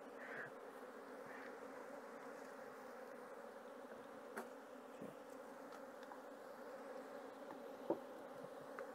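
Honey bees from a highly defensive colony buzz continuously at an apiary, a dense steady drone with occasional individual bees whizzing close by, no talking over it.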